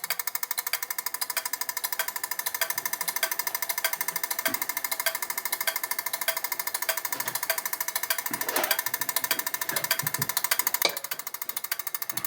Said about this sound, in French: C'est une très très belle mécanique suisse que j'ai adaptée pour avoir ce mouvement d'ouverture et de fermeture.